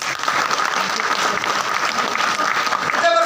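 A crowd at a motivational RCM business meeting in India claps steadily and loudly for a few seconds, with a dense, continuous rattle of hands and faint voices underneath.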